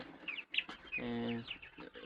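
Black Australorp chickens clucking and chirping close by in short bursts, with a longer sustained call in the middle and a voice faintly present.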